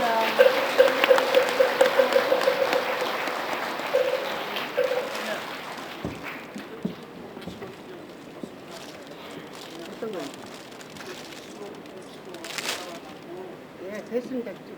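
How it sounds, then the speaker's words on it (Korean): An audience applauds at a Buddhist Dharma King coronation ceremony at a temple, a dense wash of clapping that fades after several seconds into scattered crowd noise and voices. "다시 한번 큰 박수 보내드리겠습니다"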